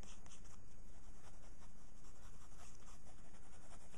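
A pencil sketches quickly on paper with soft, continuous scratchy strokes, faint and close, with no talking.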